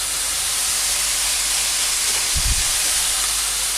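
Minced meat sizzles in a hot pan while browning for a bolognese sauce, a steady broad hiss throughout with a brief low thump near the end.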